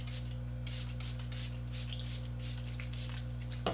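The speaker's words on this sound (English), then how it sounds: "I'm gonna spray a little more water" A spray bottle mists water onto hair in a rapid string of short, hissing squirts over a steady low hum.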